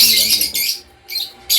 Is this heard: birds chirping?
yes